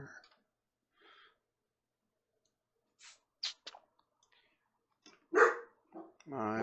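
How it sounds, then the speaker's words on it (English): A puppy gives a few short, fairly faint barks and yelps, sporadic with silent gaps between them, ending in a louder, longer whine-like bark. "My puppy is making noise."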